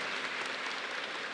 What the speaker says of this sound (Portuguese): Pode aplaudir o nosso Deus